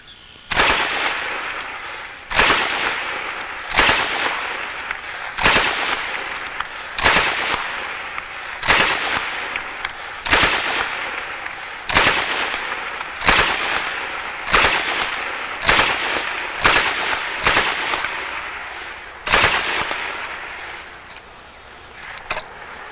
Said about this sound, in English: This is old World War II aircraft tracer.